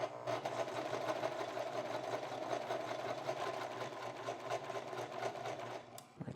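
A sewing machine stitches shirt fabric in a steady, continuous run of close, loud mechanical whirring, stopping near the end with no talk over it.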